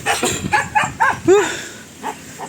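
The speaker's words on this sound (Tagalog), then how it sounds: "Ito malaki. Malaking aso." A big dog gives a handful of close, short barks and yips in quick succession, with a couple of softer ones trailing off.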